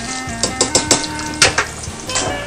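Battered sea fish is lowered into hot oil at about 150-160 degrees, setting off bursts of crackling sizzle close by, with faint background music.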